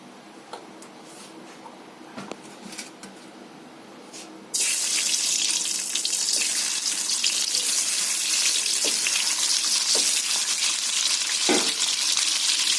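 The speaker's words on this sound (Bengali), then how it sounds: "ডিমটা ভাজা হতে বন্ধুরা ডিমটা ভাজা হতে থাকুক" Eggs coated in salt and turmeric hit hot oil in a wok, and a loud, dense sizzle suddenly bursts in after a quieter opening. The frying continues steadily to the end.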